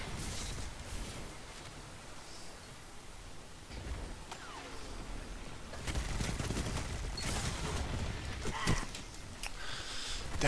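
SMG gunfire in a video game, with rapid bursts of shots that grow louder and denser about halfway through, set against a steady noisy background.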